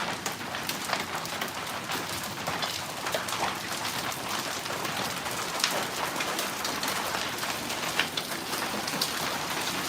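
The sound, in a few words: marble-size hail falling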